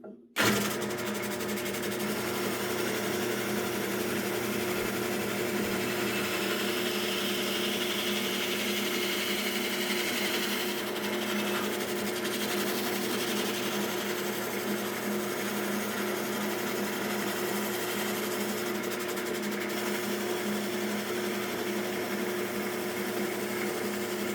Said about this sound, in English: got my drum sander on the drill press. Going to use that to just smooth these edges a little